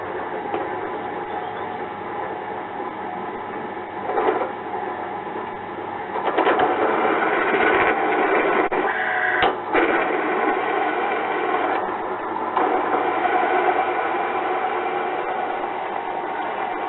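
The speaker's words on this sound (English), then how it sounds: "all I do is use my 9-inch grinder and cut to the line" A 9-inch angle grinder cuts steel along a marked line while a woodgas gasifier is built. The grinding roar is continuous and near, rising in intensity partway through with small shifts in pitch and load.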